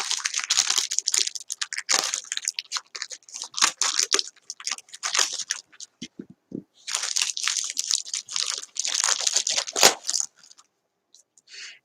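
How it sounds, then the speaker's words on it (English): Crisp, intermittent crinkling and soft tearing as a thin layer of a new Dollar Tree paper napkin is peeled from its backing, close and quiet, in bursts with brief pauses. "So all I'm doing is separating the pattern from the backing, just like this"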